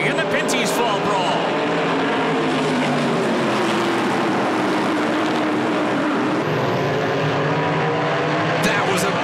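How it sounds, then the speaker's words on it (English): NASCAR Pinty's Series stock cars roaring off the green flag at the start of the 2019 Fall Brawl, a loud, sustained blend of many engines with layered rising notes filling the whole stretch. "Deborah Hampel waves the green and we're underway in the Pinty's Fall Brawl."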